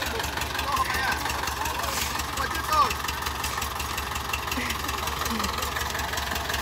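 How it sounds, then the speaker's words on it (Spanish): A tractor engine approaches a farm where maize is being shelled, a medium low idling chug that runs steadily throughout, with people talking nearby. "Mira, ahí viene el tractor."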